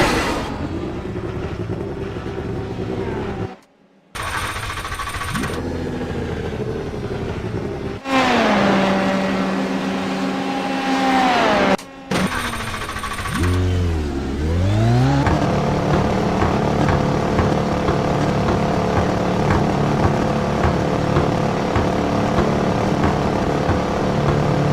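Formula 3 race car engine in a racing video game at Watkins Glen, revving and shifting through gears with harmonic sweeps rising and falling, a couple of brief cutouts, then a steady loud drone at constant speed.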